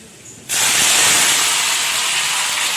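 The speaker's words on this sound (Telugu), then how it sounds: "ఒకటిన్నర స్పూన్ వేసింది మెంతులు వేసిన వెంటనే" Fenugreek seeds hit hot oil with a sudden loud hiss, then sizzle steadily and evenly, close up with no talk.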